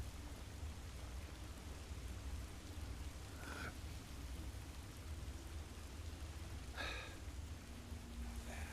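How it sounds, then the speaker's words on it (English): Steady rain falls outside a window, a soft continuous hiss of moderate level with a couple of brief faint clicks partway through. "there's rain going on outside my window"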